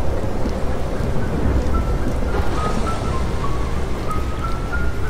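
Steady rain pours through a night storm, a dense constant wash with a deep low rumble suggesting thunder, loud and continuous with no voices.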